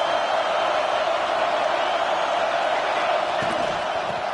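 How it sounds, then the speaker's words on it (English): A stadium crowd at a college football game roars steadily and loudly to rally the home defense, a dense continuous wall of noise with no pauses. "Listen to this crowd just shaking the girders of this place, trying to help their defense"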